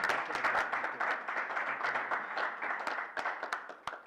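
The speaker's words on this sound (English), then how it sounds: "let's give him a round of applause." Moderate applause from a small crowd, a dense patter of clapping that gradually thins out over a few seconds.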